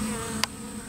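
Honeybees at a swarm trap give off a steady, dense insect buzz that holds evenly from start to finish, with one brief sharp click partway through.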